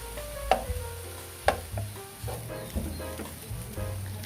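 Beef browns with sliced onion and garlic in a pan, giving a steady close sizzle broken by a few sharp clicks and scrapes of stirring, with no voices.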